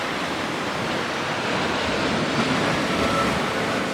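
Ocean surf rolls steadily onto the sand at Montana de Oro beach, a continuous broadband wash of breaking waves with no talk over it.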